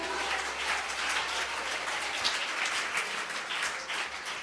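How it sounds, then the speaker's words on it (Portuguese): A church congregation applauds in a dense, hissing patter of many hands, fairly faint and steady, almost like rain on a surface, with no voices above it. "Aplauda bem forte a Ele."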